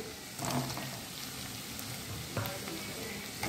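Chopped tomatoes sautéing in a pan with peas and potatoes, a soft, steady frying hiss with a couple of brief louder bursts as the mixture is stirred, fairly quiet and without talk.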